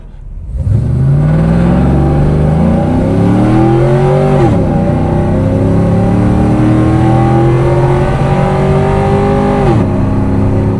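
A 2001 Pontiac Formula Firehawk V8 accelerates hard through the gears, loud rising engine pitch with two clear shift drops before climbing again, heard up close with no talking.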